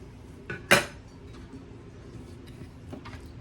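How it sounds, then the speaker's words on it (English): A crock pot lid lifts off with a single sharp ceramic clink, preceded by a softer knock and followed by quiet kitchen handling sounds. "Let me get the lid off of it"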